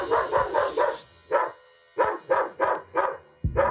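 A dog barks frantically in rapid bursts, a quick volley of loud, close barks, a brief pause, then another string of evenly spaced barks, with no talking.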